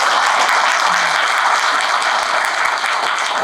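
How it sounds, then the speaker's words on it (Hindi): Loud, dense applause from a crowd at a center opening event in Kalimpong, many hands clapping steadily and close with no talk over it. "कालिम्पोंग के लोगों के लिए जोरदार तालियां।"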